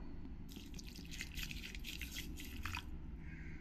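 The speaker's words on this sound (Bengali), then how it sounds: "এবার আমি এর মধ্যে জল দিয়ে দেবো" Water is poured into a bowl holding yellow mustard, black mustard and cashews, a faint close trickling and splashing lasting a couple of seconds.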